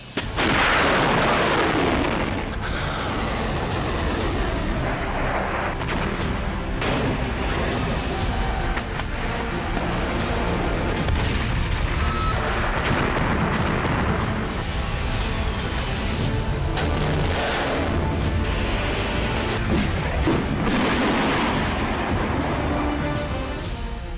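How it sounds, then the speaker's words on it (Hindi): Bunker buster bomb blasts in a wartime strike on Gaza, a dense continuous roar of heavy booms and rumbling detonations with sharp bursts layered throughout, loud and sustained with no letup. "बंकर बस्टर बम से गाजा में तबाही।"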